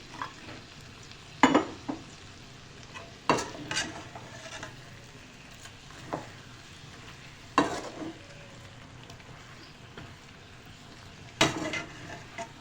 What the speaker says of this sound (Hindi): अब ये सब डाल के हम इसकी भुनाई करेंगे।